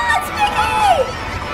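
A crowd cheers and shouts at Walt Disney World Resort in Florida, with children's voices and excited whoops rising over a dense babble of chatter.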